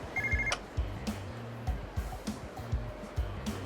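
A payphone ringing in the video game Yakuza 0: a repeating electronic ring pattern in regular short pulses, moderately loud, with a few sharper clicks over low background game sounds.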